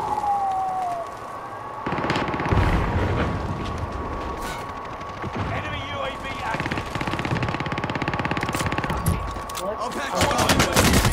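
Gunfire in Call of Duty Modern Warfare, rapid bursts of automatic fire and scattered shots crackling over a steady game hum, close and loud, while players talk over the shooting.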